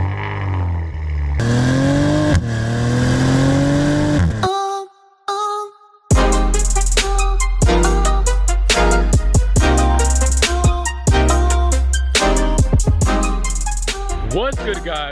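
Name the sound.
2019 Maserati Levante twin turbo V6 engine revving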